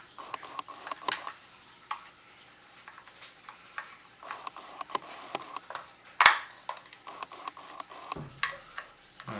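Fishing reel parts being screwed back together, sparse faint clicks and small metallic taps with one sharper knock, close and quiet.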